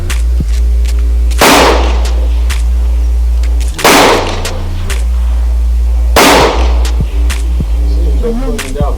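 Three loud, sharp gunshots ring out a few seconds apart at close range during firearms training, each with a booming tail, over a steady low background hum.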